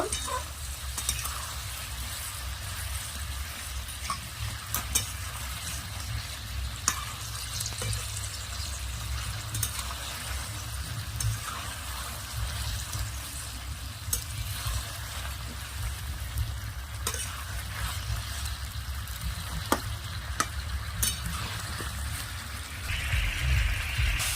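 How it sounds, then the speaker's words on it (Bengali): Toffee snacks frying over high heat in oil produce a continuous crackling sizzle with scattered pops and occasional stirring clatter, close and steady throughout. "টফিগুলো দিয়ে কিন্তু বেশি আঁচে এটা আমি ভেজে নেব"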